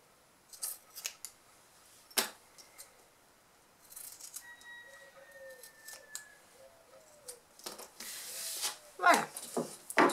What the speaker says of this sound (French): maintenant je vais découper juste l'excédent de tissu